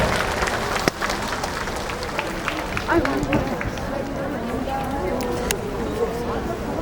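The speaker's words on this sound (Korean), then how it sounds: "정말 멋진 날을 정해주신 우리 시아에게 박수 한번 힘차게 보내주시겠습니까?" A crowd at an outdoor agricultural fair performance applauds on the host's prompt, scattered clapping mixed with crowd babble and an amplified voice over a busy, reverberant open-air stage.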